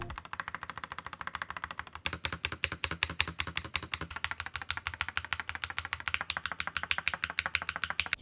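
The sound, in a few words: mechanical keyboard stabilizer keys being pressed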